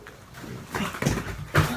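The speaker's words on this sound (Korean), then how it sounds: "착한 강아지만 줄 거예요" A dog whimpers while it waits for a treat indoors, giving a few short, soft whines and snuffles that swell briefly near the end.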